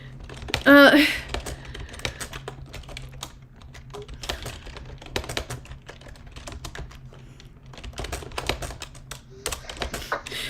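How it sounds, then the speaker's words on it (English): Rapid, clattering keystrokes on a computer keyboard run steadily throughout, close and busy, with a brief voice near the start. "you can hear me furiously typing"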